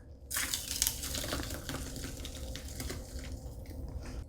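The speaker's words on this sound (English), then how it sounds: "And now we get to pour our margarita mix." Margarita mix pours and splashes into a glass for several seconds, a close, gurgling, uneven flow with faint clinks.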